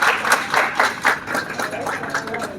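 An audience at an event in Lucknow claps for two women, with dense, steady clapping running the whole time and brief louder swells.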